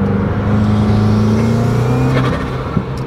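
A Subaru turbo engine drones steadily inside the cabin while driving, a loud sustained low hum with a whooshing turbo tone and slight pitch shifts, no talking.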